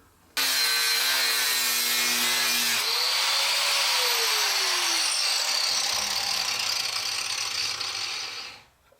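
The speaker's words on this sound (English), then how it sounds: "I'm going to get my angle grinder and I'm going to take that little nub out of each one of these wing brackets" An angle grinder cutting nubs off metal brackets for a garden dragonfly's wings, spinning up to a loud, steady high whine and harsh grinding rasp that holds for several seconds, then winds down, close and without talk.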